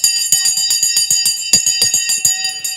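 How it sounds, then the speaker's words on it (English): A stock market closing bell rings at 3 o'clock as a rapid, steady series of bright metallic strikes, loud and close, with a sustained ringing tone between strikes and no talk over it. "The bell has gone."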